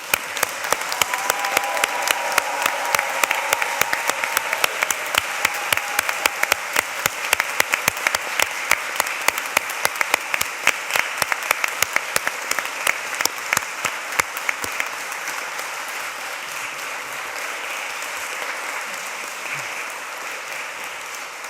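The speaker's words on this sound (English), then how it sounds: "can you all stand up so we can give you a huge round of applause" Long round of audience applause at a University of Greenwich graduation ceremony, loud, rapid clapping from a standing crowd that holds steady, then slowly thins and softens toward the end.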